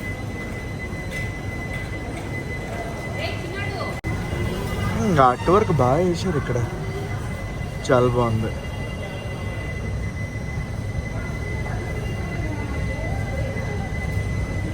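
The Sai Nagar Shirdi–Tirupati Express rolls on after leaving Rajampet, a steady rumble of the train running throughout, with someone speaking briefly over it midway.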